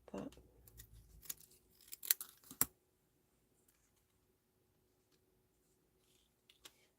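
Scissors snip through paper while making a card with dies and stamps, a few quick close cuts in the opening seconds, then near silence with one faint click near the end.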